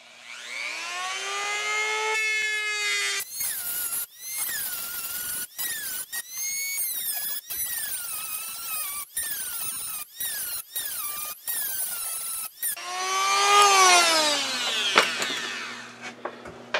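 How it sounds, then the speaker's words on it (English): A grinding wheel on a rotary tool cuts through rivet heads on a Singer Featherweight sewing machine case latch, a high whining spin that starts and stops repeatedly in short bursts, pitch dropping under load, close and loud with no talk. "I'm going to use this grinding wheel on a rotary tool, and we'll see if we can get these rivet heads cut out"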